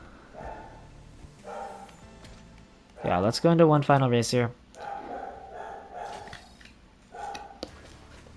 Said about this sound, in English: Oh, sorry about my dog.